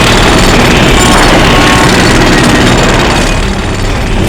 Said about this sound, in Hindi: तुम्हारे घर के बाहर मेट्रो कंस्ट्रक्शन के काम चलने की आवाज